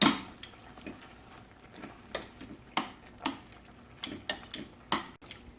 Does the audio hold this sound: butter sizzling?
yes